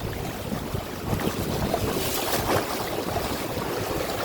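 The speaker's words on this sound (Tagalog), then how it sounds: "Lakas ng agos." Strong current rushes and churns around a small fishing boat on the water, a steady broadband wash mixed with wind buffeting the microphone, with no voices.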